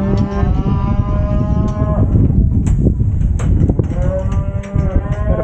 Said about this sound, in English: Okay, we got the cows back.